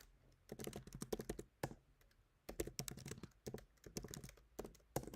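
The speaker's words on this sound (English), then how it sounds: "I bet Baudelaire would have been better at typing than me" Bursts of rapid key clicks from a computer keyboard, typed in quick clusters separated by short pauses, close and fairly loud, with no one talking.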